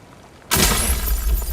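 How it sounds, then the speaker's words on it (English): A bright glass-shattering burst from rock crystals breaking open in Spider-Man 2, played through a game controller's speaker; half a second of quiet, then a sudden loud crash with a sustained crunchy, sparkling tail. "you can hear such a nice glass shattering effect when you open those rock crystals"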